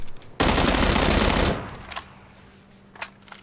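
Automatic gunfire in the PUBG battle game on the desert map Miramar: one loud, dense burst of rapid shots lasting about a second, followed by a quieter tail and a couple of faint distant cracks.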